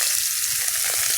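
Dried red chillies and panch phoron sizzle in hot oil for a sour crab curry, a steady close frying hiss with no pauses or talk.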